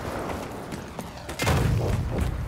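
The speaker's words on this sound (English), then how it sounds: "There is explosions going on." Explosions and gunfire in the video game Second Extinction, a dinosaur-hunting shooter: scattered light pops early, then a heavy booming burst that rumbles on loudly through the second half.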